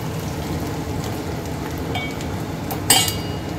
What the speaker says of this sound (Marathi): मोहरीची फोडणी, लसूण, जिरं, कढीपत्ता आणि हिंग अशी झणझणीत फोडणी दिली